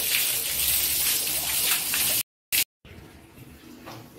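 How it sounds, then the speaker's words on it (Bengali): Water splashing and running as someone bathes and a courtyard is washed at a home; a steady, fairly loud wash of water for about two seconds, then a brief cut and a quieter, thinner trickle. "এখনও উঠোন ধোবে, এই যে চান করছে"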